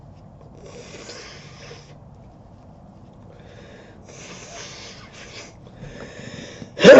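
A person sniffles a runny, dripping nose in several quick, breathy snorts close to the microphone, followed by a sudden loud rustle at the end.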